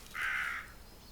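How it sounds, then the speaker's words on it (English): A single crow caws once, a short raspy call standing out alone against a quiet background. "The calling birds are still crowing."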